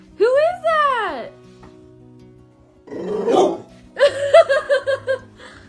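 A rescued pit bull barks in two separate bursts, a pair of drawn-out yelping barks early on, then a quick run of about five short barks near the end, loud and close, with noisy scuffling between them.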